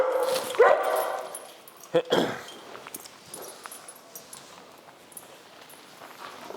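A few sharp dog barks near the start, then quieter yips and shuffling footsteps with some background voices.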